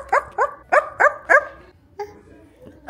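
A dog barks five times in a quick, close series of sharp woofs, then gives a softer yip and a final bark after a pause.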